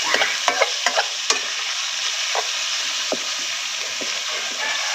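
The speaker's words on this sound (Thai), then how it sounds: "หมูลงน้ำมันหมู ผักกาดหัวหอมใหญ่" Pork hits hot lard in a pan with cabbage and onion, giving a loud, continuous sizzle of stir-frying, broken by sharp scrapes and clacks of the utensil tossing the food.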